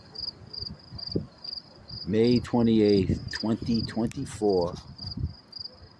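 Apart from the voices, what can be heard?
crickets chirping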